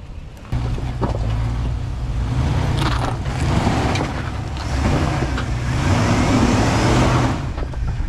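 An off-road vehicle crawls up a rocky uphill shelf in a Death Valley canyon, its engine a steady low rumble with slight throttle swells and crunching over rock, fairly close and continuous.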